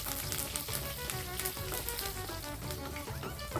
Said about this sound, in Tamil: இதை நல்லா எண்ணெயில் நல்லா வதக்கிக்கலாம்